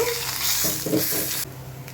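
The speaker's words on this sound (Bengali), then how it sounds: "আবার অন্য মাছটা যেটা বাকি আছে সেটা ফ্রাই করে নেব" Tilapia fish fry in a pan with a continuous crackling sizzle, close and fairly loud, briefly disturbed by stirring or turning before settling back to a quieter sizzle.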